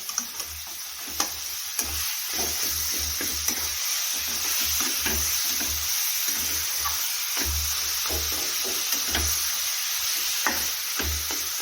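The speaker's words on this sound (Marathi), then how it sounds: "तर आता टाकून घेऊया धुवून घेतलेला खिमा फिरवून घेऊया" Washed minced meat (keema) sizzles steadily in a hot pan as it is stirred, with scattered clicks and scrapes of the spoon over a continuous frying hiss, no voices.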